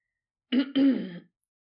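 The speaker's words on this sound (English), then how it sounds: "clearing his throat pointedly" A single close, deliberate throat clearing in two quick gravelly pushes, with silence before and after.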